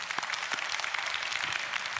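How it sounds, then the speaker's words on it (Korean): Congregation applause during a church sermon, a soft, steady wash of many hands clapping at some distance, no voices over it. "하나님께 박수합시다."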